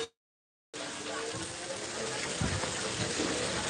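Rain pouring down at a busy street pani puri cart, a dense steady rush of water that starts abruptly after a short silence and continues loud and unbroken.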